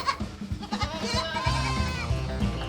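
Goats from a herd of about 130 used for brush clearing bleat in quick succession, several close, nasal cries overlapping over nearly three seconds with no talk.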